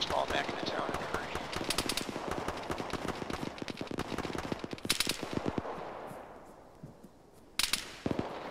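Rapid gunfire in a ShackTac military shooter game, dense close bursts of automatic fire crackling steadily, fading briefly then returning with a few sharp cracks, with voices talking underneath.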